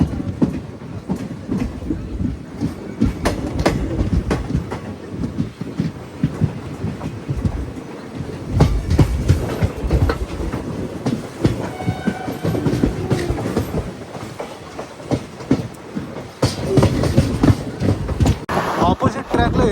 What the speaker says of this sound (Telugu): ఆపోజిట్ ట్రాక్లో ఏదో ట్రైన్ వస్తుంది